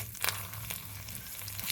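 Whole spices (dried red chillies, green cardamom, cinnamon, cloves and bay leaf) sizzle in hot oil in a kadai for a vegetarian dish, giving a steady, close frying hiss with a low hum underneath and no talk.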